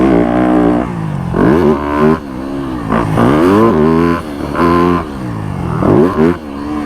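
A motorcycle rides a supercross track, its loud, close engine rising and falling through repeated throttle surges across jumps and corners, with no talk.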